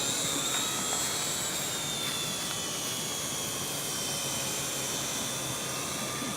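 A camera drone flies overhead with a steady, high-pitched buzzing whine and hiss that stays even and continuous throughout, moderately close, with no voices.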